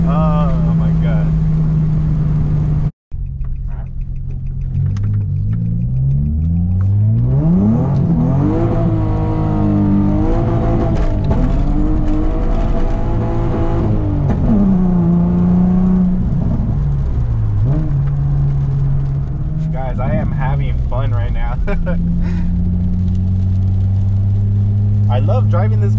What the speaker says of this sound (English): I love driving this car in the rain because it's rear wheel drive